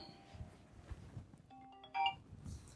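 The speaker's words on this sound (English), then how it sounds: "that's my phone." A mobile phone ringtone plays faintly and somewhat distant, a short run of bright melodic tones that briefly swells over a quiet room background.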